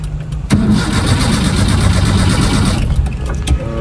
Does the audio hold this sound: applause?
no